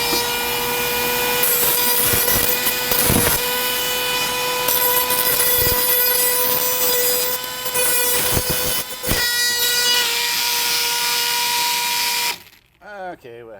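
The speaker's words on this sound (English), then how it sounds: "we still have a nub here, so we want to kind of grind that off" A cordless Ryobi 18V rotary tool grinds steadily with a high whining drone and scraping bursts for several seconds, then cuts out abruptly when the bit separates.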